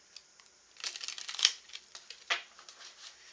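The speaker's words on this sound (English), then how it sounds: "We're going to use our wonderful tea leaf deck. Gonna shuffle this real quick." A tea leaf oracle card deck shuffled by hand, giving quick soft riffling and flicking bursts of papery rustles, close and faint, with short pauses between them.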